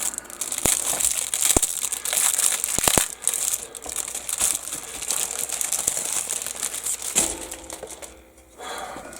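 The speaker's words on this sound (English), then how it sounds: "Like these bags aren't as crinkly as some other people's bags." Resealable plastic bags holding the parts of a Takom 1/72 military dozer model kit rustle and crinkle steadily up close, with scattered sharp crackles and clicks as they are handled.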